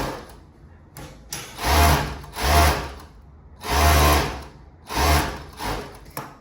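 A sewing machine stitches elastic into a suplex cropped top in several short, loud bursts of whirring, separated by brief pauses while the fabric is repositioned.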